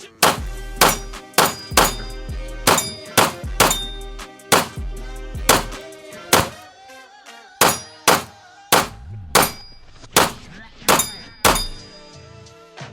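A Gowutar GP-7 SRO clone pistol is fired through a magazine, giving about twenty sharp, loud shots in an uneven rhythm, each ringing with a metallic decay.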